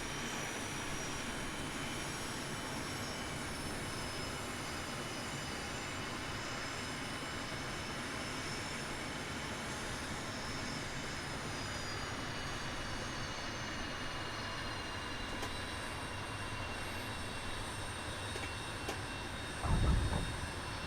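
A Leonardo M-346 jet trainer settles onto the runway under autopilot in Microsoft Flight Simulator, its steady engine whine droning evenly throughout, with a short thump near the end as the wheels touch down.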